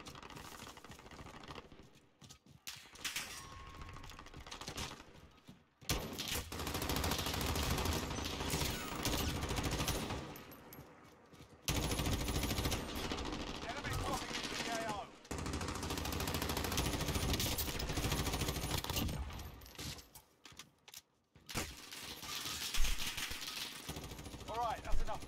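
A gun fires in the Warzone video game, with repeated loud bursts of rapid automatic gunfire broken by short gaps, and someone talks over part of the shooting.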